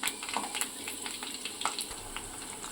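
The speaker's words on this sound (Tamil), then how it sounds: "வெங்காயத்தை நல்லா பொரித்து எடுத்துக்கலாம்." Onions frying in a pan for Malabar chicken biryani, a soft, steady sizzle with light crackles and an occasional stir, fairly quiet and close, with no voices.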